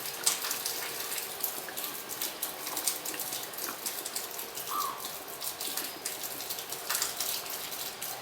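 Water pours and splashes out of a bottle in a steady, close gush, with no voices.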